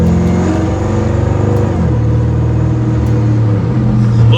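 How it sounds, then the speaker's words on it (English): Supercharged LT4-powered Chevy Corvette C1 restomod engine runs loud and close, a deep steady drone with a faint high supercharger whine layered over it, shifting slightly in pitch partway through. "Boy, you sure hear the whine of that supercharger."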